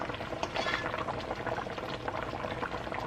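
Cow foot simmers at a rolling boil in a pot, a steady, dense bubbling and gurgling that holds evenly throughout, close and fairly loud with no talk.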